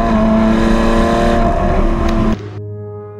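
A Lamborghini supercar engine, either a Huracan Evo Spyder or an Aventador SVJ Roadster, howls loud and close at a steady high pitch, then cuts off abruptly partway through and settles into a quieter lower drone.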